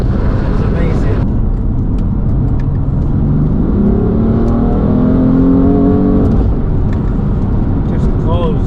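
A BMW M4 F82 accelerates hard from inside the cabin, its engine note rising through the revs in a loud, sustained pull, then settling near the end.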